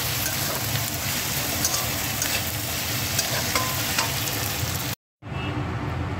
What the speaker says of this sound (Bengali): তো চলো পেঁয়াজটা লাল করে ভেজে আদা রসুনের পেস্টটা দেওয়া যাক।